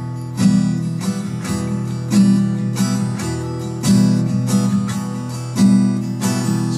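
Acoustic guitar strummed on open chords in the mukhra pattern for a Hindi song. Each bar holds eight steady strokes with accented strums on 1, 4 and 7 and muted strokes between them. It is close and clear, with no talk.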